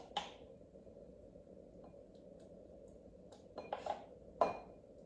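Oats being scooped into a bowl with a spoon, giving a few faint scrapes and clinks: one near the start and a small cluster toward the end, over a quiet background with no speech.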